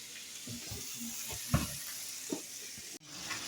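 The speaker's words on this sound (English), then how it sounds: "See that bacon sizzle." Quiet crackling sizzle of bacon frying in a pan as a pizza topping, with a few louder pops and a short clatter near the end.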